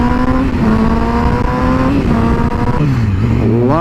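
A Yamaha R6 sport motorcycle engine revs loudly and close, holding a high steady whine, then dropping and climbing again as the rider blips the throttle between gears.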